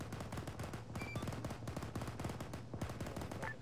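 Distant gunfire in Arma 3 crackles in irregular bursts of single shots and short automatic volleys, fairly faint and continuous across the battlefield.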